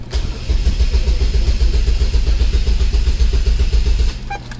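A 2003 Chevrolet Cavalier with a supercharged 2.2 Ecotec engine cranks over during a clear-flood test with the gas pedal held down, a loud, close, steady rhythmic churning of the starter that runs for several seconds and then stops.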